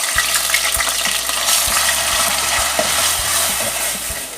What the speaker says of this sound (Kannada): ಒಂದು ಕಡಾಯಿ ದಿಕ್ಕ ಕೊಂತ ಎಣ್ಣೆ ಪಾಡುಗ ಮತ್ತೆ ನೀರುಳ್ಳಿ ಪಾಡುಗ